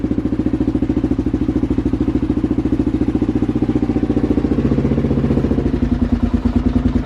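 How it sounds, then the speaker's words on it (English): A Kawasaki KLR650 dual-sport motorcycle just after starting, with its loud exhaust running close by in a steady, fast, throbbing idle for the whole stretch. "I apologize for my loud KLR650."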